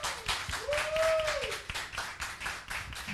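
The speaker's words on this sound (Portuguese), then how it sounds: "As palmas aqui no estúdio" Applause from a studio audience on a Brazilian TV variety show, a steady crackling wash of many hands clapping for about three seconds, with a brief rising and falling whistle-like tone near the start.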